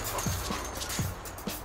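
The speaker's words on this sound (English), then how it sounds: "There's a good dog." Dog in the video game Grand Theft Auto V giving a few short, low whimpering yelps spaced about half a second apart, close and fairly loud over a steady background of game ambience.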